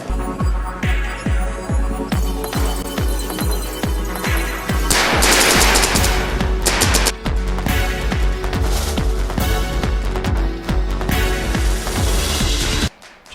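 Paintball guns fire rapidly on a paintball field in a long run of sharp pops. The volleys sound loud and close, with dense bursts and brief gaps between them, and no talking.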